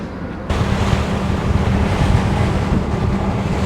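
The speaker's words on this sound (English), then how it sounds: "And the wind in my face is insane, bro!" Strong, cold wind roars across the microphone on the deck of a ferry bound for Nokonoshima Island in Fukuoka, a loud, steady rush that starts abruptly after a brief quieter moment and continues without talk.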